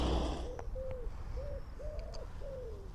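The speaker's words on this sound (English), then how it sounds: "Pigeon." Pigeon cooing outdoors in a hill town in Chieti, Abruzzo, Italy: five soft, low hooting coos in an even series, moderately close, over steady background ambience.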